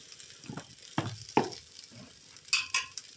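Two tomatoes frying in a pan for dal, stirred with a utensil in a few quick scraping strokes, close by, with brief bright clinks of metal on the pan near the end.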